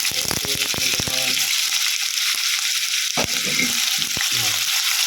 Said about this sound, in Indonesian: Lalu kita goreng tahu yang sudah kita potong-potong.